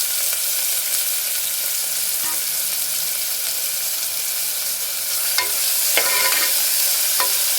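Small chopped onions frying in a pan for a Chettinad chicken gravy, a loud continuous sizzle close up, with a few stirring scrapes and clicks near the end and no speech.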